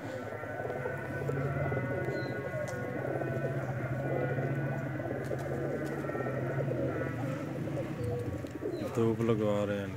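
Several pigeons coo softly and continuously nearby, with low murmuring voices mixed in and occasional flutters near the end.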